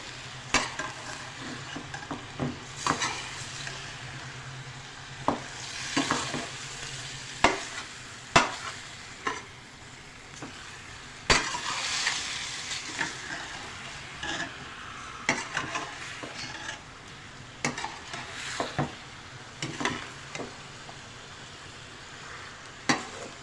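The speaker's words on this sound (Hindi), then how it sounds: "अभी तमाम चीज़ें डाल के हम इसको मिक्स करेंगे" A spoon scrapes and stirs turnip, spinach and mutton curry in a pot, with irregular clatters and knocks over a soft sizzle, fairly close and steady throughout.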